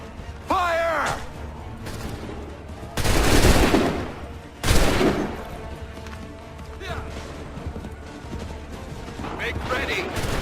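Musket volleys fire in the video game Assassin's Creed III, two loud booming blasts with rolling echoes standing out over battlefield clatter, shouted commands and other voices.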